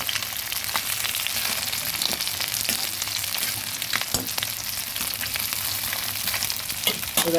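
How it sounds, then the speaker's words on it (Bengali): Steady, close crackling of tengra fish frying in oil in a pan, with sharp spattering pops scattered through the constant hiss. "সবগুলো মাছ উল্টে পাল্টে আমি ভেজে তুলে নিয়েছি"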